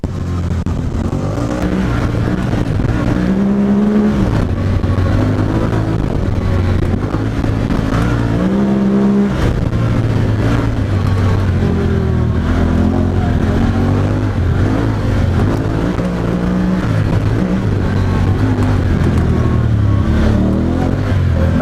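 A Honda Talon side-by-side runs off-road, its engine droning loud and steady, close by, with the pitch rising and falling as it works through a washout.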